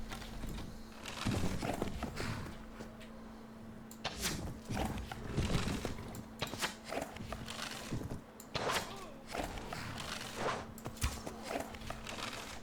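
Horses in Mount & Blade: Warband with the Crusades mod move at speed, a dense run of close, loud hoofbeat clip-clops with occasional whinnies and gear rattle over a low steady hum.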